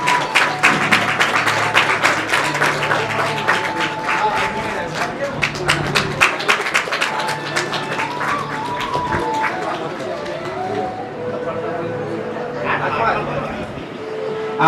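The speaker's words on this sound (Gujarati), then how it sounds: "તો આપણે તેઓને ખૂબ તાળીઓથી વધાવીએ." Audience clapping at a religious yagya gathering honouring a donor, a burst of dense applause that thins and fades over several seconds while an announcer talks.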